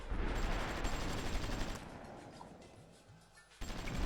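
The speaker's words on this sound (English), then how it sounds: "The artillery over there." Artillery and gunfire in a strategy war game unfold as a dense, continuous rumble of distant booms and crackling shots, easing off midway before picking up again.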